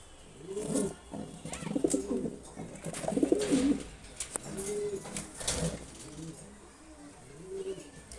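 A large, strong racer pigeon from a high-flying pair coos close by in repeated throaty bursts over about eight seconds, with a brief pause in the middle and faint background noise.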